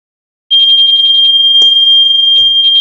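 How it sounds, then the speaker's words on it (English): A pulled fire alarm starts abruptly and rings loud and continuous, a piercing electronic tone with a rapid pulsing beat, while brief faint voices come in under it. "I'm going to pull the fire alarm."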